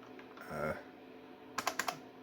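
Computer keyboard on an AT&T PC 6300: a quick burst of four sharp, close keystrokes near the end, following a brief muffled knock and low background hum.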